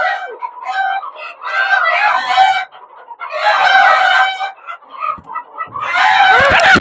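Egyptian Fayoumi chickens cluck and crow in loud, overlapping bursts close by, with two brief pauses between the flock's outbursts and a few knocks near the end.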